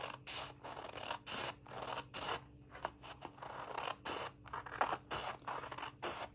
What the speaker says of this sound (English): these are great scissors, by the way, the paper snips.